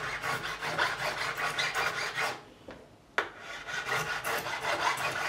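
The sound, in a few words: file deburring Fender Telecaster frets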